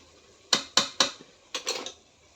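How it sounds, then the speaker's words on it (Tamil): A pot lid is set onto a pot of crab gravy with a few sharp metallic clanks and clinks in quick succession, close and fairly loud. "மூடி போட்டு மூடி வச்சாச்சு."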